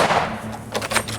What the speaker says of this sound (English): Shoot him, Julius.